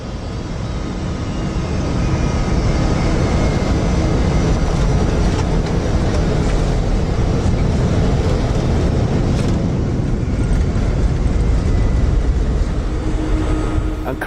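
An Airbus A310 airliner landing, heard from inside the cabin as a loud, steady broadband roar of engines and airflow that swells slightly and holds throughout, with no talking.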